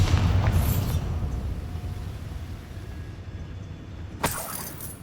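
Bombarda spell exploding in Hogwarts Legacy, a heavy rumbling blast at the start that trails into a long roaring decay, followed by another sharp crack and burst.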